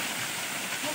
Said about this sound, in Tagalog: Pag-agas nga tubig.